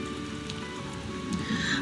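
Rain falls in a steady, close patter of drops on a surface, with a dense, even hiss and no voices.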